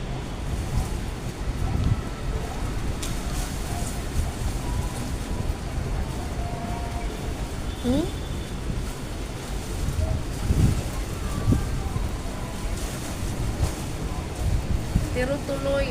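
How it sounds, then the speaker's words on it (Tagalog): A strong wind storm gusts in Vietnam, a constant loud rush of wind noise buffeting the microphone throughout, with a voice speaking intermittently over it. "Lakas ng hangin."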